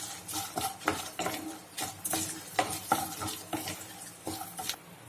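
Peanuts roasting with turmeric in a pan for lemon rice, stirred with a spoon in a repeated scraping rhythm over a steady soft sizzle, close and moderately loud.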